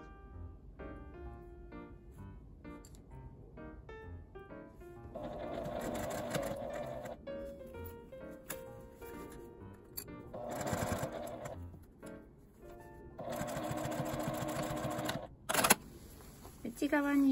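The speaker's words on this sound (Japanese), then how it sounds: "今回はミシンで縫います。" A sewing machine stitches the edges of a small L-shaped fabric pouch made from scrap fabric with a 12 cm zipper, running in steady loud bursts with brief pauses, over light background music.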